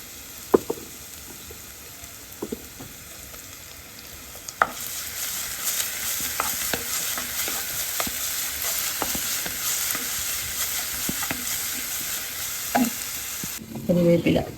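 Onions sautéing in a home kitchen pan sizzle steadily for several seconds, broken by scraping stirs and a few sharp utensil knocks, close and fairly loud with no one talking.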